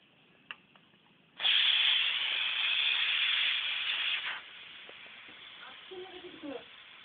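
Pressure cooker boiling eggs lets out a sharp, loud hiss of escaping steam lasting about three seconds, then drops back to quieter background with faint voices and clinks.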